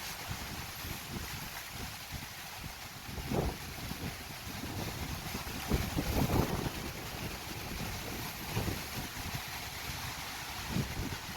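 Wind roars in continuous gusts with a hissing, rain-like wash over it, swelling louder now and then over several seconds.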